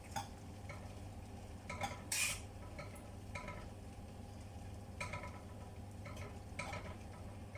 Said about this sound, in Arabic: غادي نحرك.